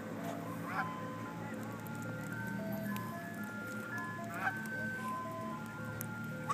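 Several ducks quacking and honking at close range at Laguna de Los Patos in Porterville, California, scattered calls over a murmuring outdoor background.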